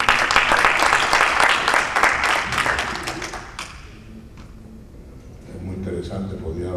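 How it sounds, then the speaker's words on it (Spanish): An audience gives a loud, dense burst of applause that lasts a few seconds and then quickly dies away, leaving room noise and a voice starting to speak. "Un aplauso para ti."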